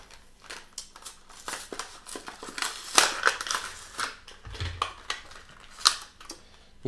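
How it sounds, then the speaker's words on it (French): An item from a NerdBlock box being unwrapped: close crinkling and crushing of packaging in uneven bursts, with scattered rustles and snaps and no talking. "Et donc on va quand même déballer ça."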